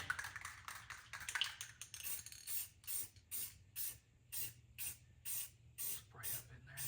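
A spray can sprays primer inside a Camaro race car, at first in a few quick, uneven hisses, then in a steady run of about ten short, evenly spaced bursts, loud and close.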